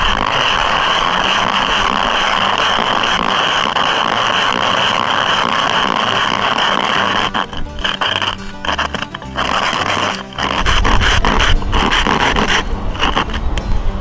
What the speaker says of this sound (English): that if you scrape that away, you've just opened your can.